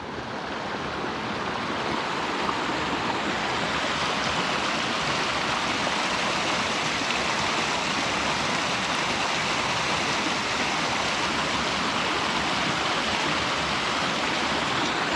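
Creek rushing steadily at a trail crossing on the Middle Fork Snoqualmie River trail, a loud continuous broadband wash of flowing water with no pauses, close by and alone.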